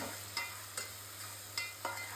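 Sliced onion frying with garam masala for a country chicken korma, a steady soft sizzle punctuated by four sharp spatula strokes against the pan at regular intervals; no talking.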